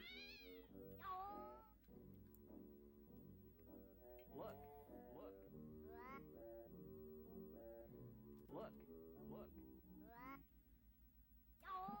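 A cartoon cat in the PC game Pac-Man 2: The New Adventures meows repeatedly in drawn-out, rising and falling cries, mixed with game music and sound effects, with a voice speaking over parts of it.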